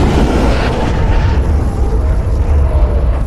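An audio drama battle fills the air with loud, continuous gunfire, a dense rumbling barrage of shots and blasts that blur together close up without any pause.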